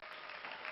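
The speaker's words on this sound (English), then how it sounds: "listen to that cheering" Crowd cheering and applause sound effect from a board game, a dense steady roar of clapping and cheers, loud and continuous for under a second.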